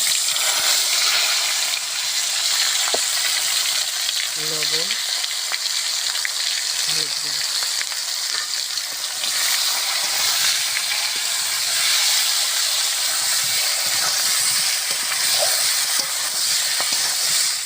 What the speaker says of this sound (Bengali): ভাজা তেলে আমি আলু আর এঁচড়টা সুন্দর করে ভেজে নেব